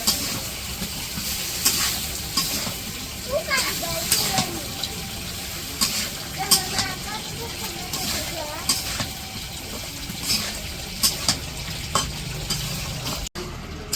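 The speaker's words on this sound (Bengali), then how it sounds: "কষিয়ে রান্না করব" Chopped ash gourd sautés in a curry pan in a village kitchen, with a steady sizzling hiss broken by intermittent stirring scrapes. A voice talks over it now and then.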